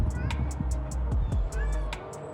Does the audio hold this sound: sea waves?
no